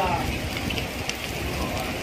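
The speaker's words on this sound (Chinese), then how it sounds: "这里开始下冰雹" Hail pelting down during a sudden storm in Binzhou, China, a dense, continuous rattling patter with small sharp hits, heard outdoors with a voice talking faintly over it.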